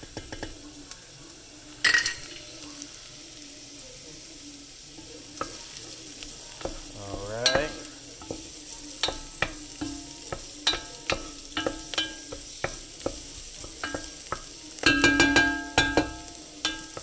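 Garlic sizzles in a pan while a utensil stirs it, with a soft steady fry under scattered clinks and scrapes, plus a few louder bursts of stirring, close by.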